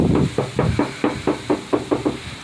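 Knuckles knock on a car body panel patched with Bondo filler over a rust hole, about nine or ten dull, solid taps in a steady rhythm, close and fairly loud.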